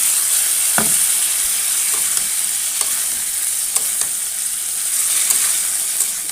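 Vegetables and spice paste sauté in a pan with little oil for a fish curry, a steady close sizzle punctuated by sharp, irregular spatula clicks and scrapes against the pan.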